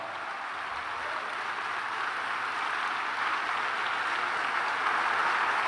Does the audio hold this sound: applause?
yes